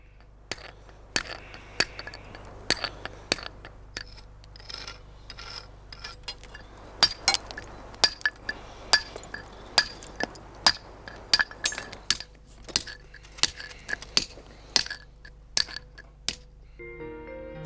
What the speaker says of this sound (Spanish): La gradina es una especie de cincel que el cantero utiliza para hacer la tirada de la arista